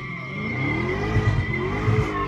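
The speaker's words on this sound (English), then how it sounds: "All right, do the small little burnout." A Dodge Hellcat doing a small burnout gives a sustained tire squeal over a loud, steady engine roar, up close and continuous with no voices.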